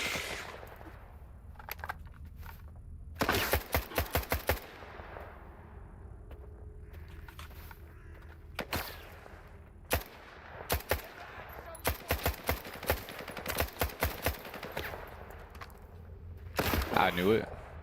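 Bursts of gunfire from S.T.A.L.K.E.R. 2 on master difficulty, volleys of rapid shots in several clusters separated by quieter stretches of ambient game sound, loud and close.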